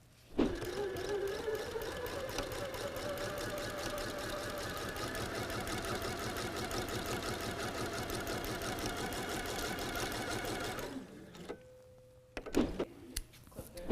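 Sewing machine stitching quilt patches together for a kaleidoscope block, running steadily and loudly at close range for about eleven seconds, then stopping, followed by a few brief handling clicks.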